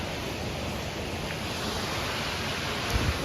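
A rushing waterfall sends a steady, dense roar of falling water, loud and close, with a faint breathy gust near the end and no voices.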